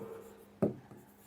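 A pen or pencil writes a math proof by hand with a faint scratch and then one short, sharper stroke partway through.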